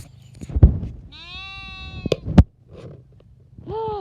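Sheep on a farm bleat several times, close and loud, with wavering calls separated by thumps and handling noise, with a final bleat rising at the end.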